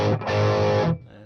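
A Metropoulos Metro-Plex guitar amp turned all the way up gives a loud, distorted chord that sustains for almost a second and then cuts off, leaving a faint hum.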